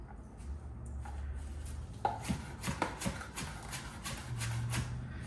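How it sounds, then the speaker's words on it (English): A knife chops and dices a corn stalk on a cutting board for grilled elote tacos, giving a run of sharp, close taps from about two seconds on over a low steady hum. "I'm using the shape of the knife to cut it up"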